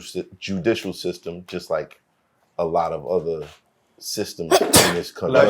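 Someone talks steadily, then a sharp, loud sneeze bursts out close by near the end while speech continues around it.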